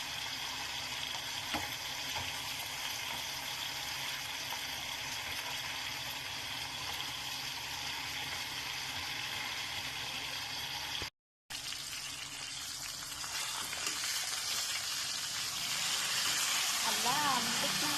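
Food sizzles and crackles steadily in a frying pan, mixed with running tap water, while a person talks nearby throughout.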